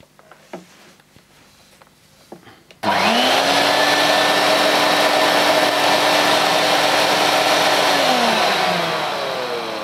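A vintage Electrolux 560 electronic upright vacuum cleaner switches on after a few quiet clicks and handling noises, its motor surging up to a loud, steady whining roar that holds for several seconds, then eases off slightly toward the end.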